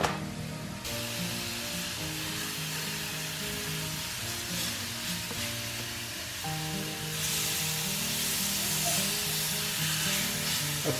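A piece of flounder fries in a non-stick copper pan, giving a steady close sizzle and crackle of hot oil that runs throughout with slight rises in intensity, no one speaking.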